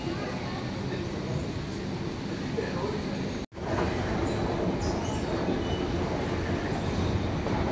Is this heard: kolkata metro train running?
yes